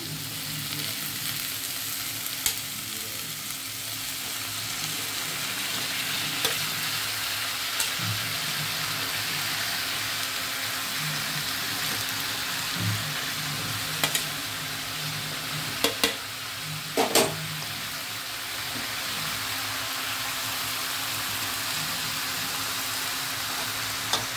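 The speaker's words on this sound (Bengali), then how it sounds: "শাকটা দিয়ে দিয়েছি, এবার নাড়তে থাকবো" Malabar spinach frying in a pan with potato and pumpkin, a steady sizzle running throughout while a spatula stirs it, with a few sharp scraping clicks scattered along the way.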